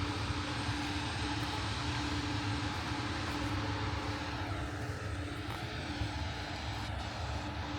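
A steady, droning Kirovets K-744 tractor engine rumble runs throughout at a constant, moderately distant level, with no talking over it.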